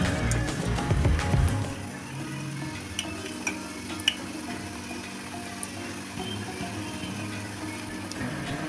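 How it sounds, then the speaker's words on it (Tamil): Jalebi batter sizzles as it is piped into hot oil, with a steady, soft frying hiss running throughout and some clattering and stirring noises near the start. "இப்போ எண்ணெய் காஞ்சிடுச்சு,"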